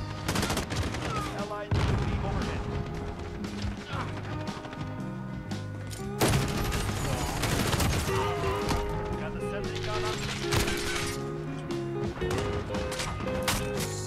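Kilo 141 assault rifle firing in Call of Duty Modern Warfare, sustained rapid automatic bursts over game music and effects, loud and close, with a few sharper crashes.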